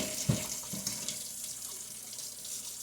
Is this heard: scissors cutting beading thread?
no